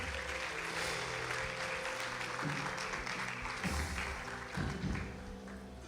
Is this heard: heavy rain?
no